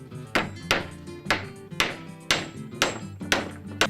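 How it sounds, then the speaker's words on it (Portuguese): A nail is hammered into the wooden frame of a handmade canoe, about nine sharp, ringing metallic strikes in an uneven but steady rhythm, loud and close with short decays between blows. "onde o primeiro prego vai ser martelado"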